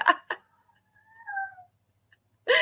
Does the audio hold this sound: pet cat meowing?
yes